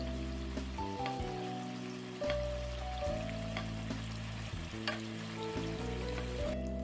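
Hamburger steak simmers in a glossy teriyaki sauce, giving a steady soft sizzle and bubbling that runs under fairly loud background music throughout.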